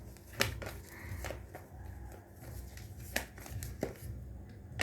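Tarot cards being handled and shuffled to draw clarifier cards, a string of soft papery flicks and riffles with a few sharper snaps, close and moderately quiet.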